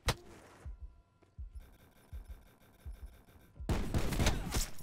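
Sharp shots from an SDM marksman rifle in a first-person shooter video game ring out in a slow, irregular series, with a louder burst of gunfire near the end.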